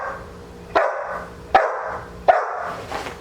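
A dog barks three times in a sharp, evenly spaced sequence, loud and close, with quiet pauses between each bark.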